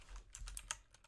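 An ID being typed on a computer keyboard, a quick run of about half a dozen soft key clicks close by, with no talking.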